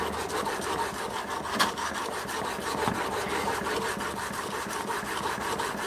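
A woodworking blade's primary bevel being honed under pressure on a sharpening stone, a steady close rasping scrape that runs continuously with slight surges in strokes.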